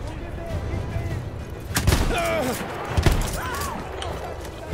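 Shotgun blasts in a first-person shooter video game, a couple of loud, sharp booms spaced about a second apart, mixed with game effects and someone talking over the action.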